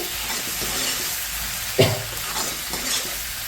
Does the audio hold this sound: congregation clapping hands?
no